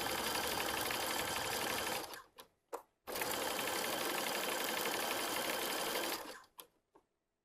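Sewing machine top stitching elastic onto swim bottoms, two long loud bursts of fast steady needle hum, each stopping abruptly with a few short restarts in between.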